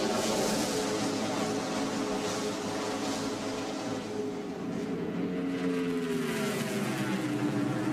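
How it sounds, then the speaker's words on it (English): NASCAR stock cars race at Atlanta in spring 1999, their engines roaring in a sustained, layered whine that bends downward in pitch toward the end as cars sweep past, heard from moderately close. "Bobby Labonte drives hard in the corner on the outside of Bill Elliott as he tries to catch Jeff Gordon."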